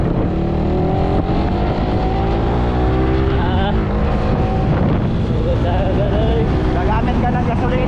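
Gasoline motorboat engine running, a loud, steady droning roar up close with heavy wind buffeting the microphone throughout.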